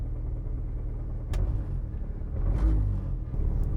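A car engine idles after a rebuild, its low steady rumble carrying a rattling flywheel, with the engine note swelling briefly a couple of times and heard up close.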